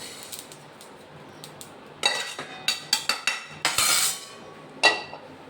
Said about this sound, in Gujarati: હવે આપણે ગેસ બંધ કરી દઈશું અને આપણે એક બાઉલમાં લઈ લઈશું તલને